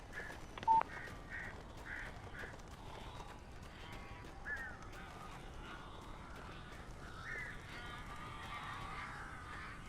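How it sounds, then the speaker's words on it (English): Crows caw in the video game Alan Wake Remastered, several faint, evenly spaced harsh calls in quick succession followed by scattered softer bird and ambient noises, all distant and quiet. "These birds are weird."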